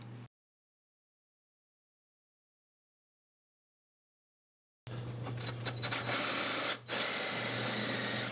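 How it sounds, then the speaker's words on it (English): A Festool Domino joining cutter starts up after a long stretch of silence and runs loud and steady with a constant motor hum and a high buzzing whine, close by and alone, with a brief dip near the end. "This is the Festool domino cutter"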